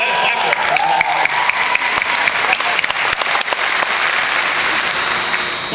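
Loud, sustained applause from a school audience for a teacher fills the room evenly, a dense wash of many hands clapping with scattered sharper claps throughout, close and unbroken.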